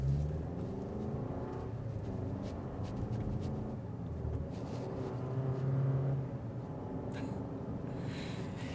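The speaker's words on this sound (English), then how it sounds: "That was the actual vehicle just changing gears." A 2025 Lexus NX 250 accelerates under load, its engine a steady low drone heard from inside the cabin, rising and dropping as the 8-speed automatic shifts gears, fairly faint and with no talk.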